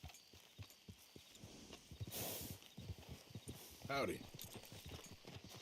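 Horse hooves clip-clopping in Red Dead Redemption 2, a steady walking rhythm of hoof strikes close by, with a short snort or whinny and a brief spoken greeting over them.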